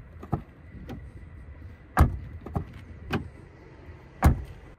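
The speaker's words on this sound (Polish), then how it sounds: "Posłuchajmy dźwięku zamykania drzwi" Doors of a 2023 SEAT Ateca FR with a 2.0 engine are shut one after another, several solid, close thuds spaced about a second apart, some with faint latch clicks and creaks between them.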